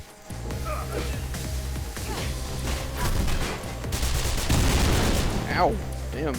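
Rapid gunfire bursts from enemies in Mirror's Edge strike the player character, a dense, loud stream of shots layered over a steady game soundtrack with a few sharper impacts near the end.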